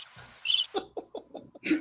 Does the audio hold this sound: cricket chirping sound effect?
yes